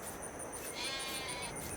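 Sheep bleating in the farming game Farming Simulator 22, a faint, steady game ambience of livestock sounds running throughout with no one talking.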